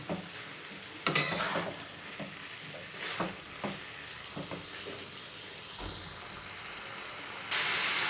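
Bathua greens with potato and eggplant cooking in a pan as the leftover water boils off, giving a soft steady sizzle with a few louder stirring scrapes and a brief harsh hiss near the end.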